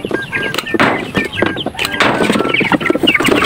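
Chickens clucking close by during a native tambis fruit harvest, with scattered short calls and knocks over a busy outdoor background and bits of talk.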